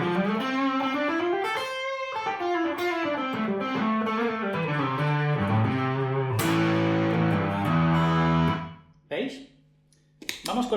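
A distorted Fender Stratocaster plays a loud, continuous melodic phrase with bends and shifting chords. It stops abruptly near the end, followed by a brief short note, with no speech.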